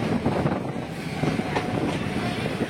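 A DEMU diesel electric multiple unit train, an unreserved special express, rumbles along broad gauge track with a steady rolling roar and faint rail clatter, continuous and fairly loud.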